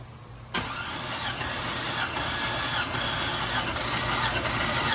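An old project truck's engine cranks over with the spark plugs removed for a compression test: a sudden start, then a steady, even churning whir that continues for several seconds, close and fairly loud.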